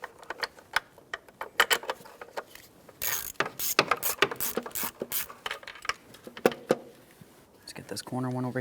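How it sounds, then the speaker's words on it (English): A socket ratchet clicks in quick bursts while starting intake manifold bolts by hand on a 2013-2020 Ford Fusion 2.0L I4, close and crisp, with pauses between runs of pawl clicks. "we can go ahead and start it in with our socket as well"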